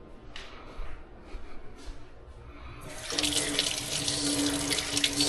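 A kitchen tap runs water to rinse the milk frother of a Philips EP1200 coffee machine. After about three seconds of quiet handling sounds, the flow starts as a loud, steady, close splashing rush that continues to the end.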